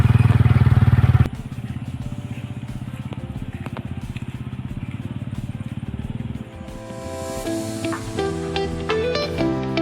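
A motorbike engine drones close and loud as it rides along a muddy dirt road toward a hilltop viewpoint, the tone shifting as the rider changes speed, with rattling and clatter over the rough track.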